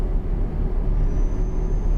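A truck engine in a driving game drones steadily and evenly throughout, with a constant low rumble and a faint whine, and no talk over it.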